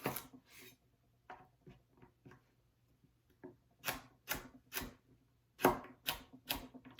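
A knife cuts a vegetable in half on a cutting board, giving a quiet, irregular series of sharp taps and clicks with short pauses between them.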